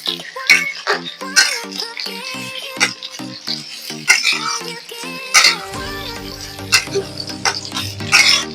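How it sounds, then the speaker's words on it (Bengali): Chopped onion fries in mustard oil with a steady sizzle, broken by repeated stirring scrapes, while tuneful background music plays throughout. "পেঁয়াজটা ভাজা হয়ে গেছে"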